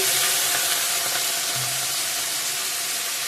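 Spices frying with a splash of water in a pan give off a steady, loud, close hiss and sizzle, continuous throughout with no talk.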